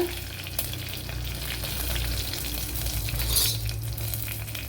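Mustard seeds sizzle and spatter in hot coconut oil in a pan, a steady close frying hiss with scattered pops and a faint clink of a utensil, no voices.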